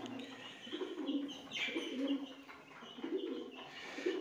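Pigeons cooing softly while pecking at grain alongside chicks and rabbits, repeated low coos at a gentle, irregular rhythm with faint chirps, fairly quiet and close.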